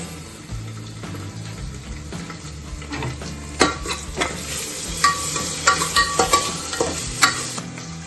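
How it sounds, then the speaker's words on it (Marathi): Chopped tomatoes tipped into a hot frying pan for masala khichdi, then stirred: a loud wet sizzle swells, followed by repeated scraping and clanking strokes of the spoon against the pan, close by. "आता जे टमाटे आपण चॉप केलेत ते टाकूयात"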